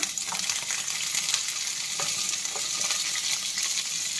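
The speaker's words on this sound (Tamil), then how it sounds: "இப்போ இதில் இந்த வெங்காயத்தை போட்டலாம்" Onions added to a hot curry-leaf tempering for chicken gravy sizzle continuously in oil, with a close, steady frying hiss and occasional stirring scrapes, no voices.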